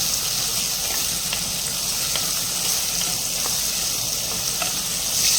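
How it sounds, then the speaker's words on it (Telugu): Tomatoes with salt frying in a pan give off a steady, loud sizzle with faint crackles throughout, no voices. "ఇప్పుడు చూడండి, కొంచెం సేపు బాగా ఫ్రై అయ్యేంత వరకు మనం ఫ్రై చేసుకున్నాము"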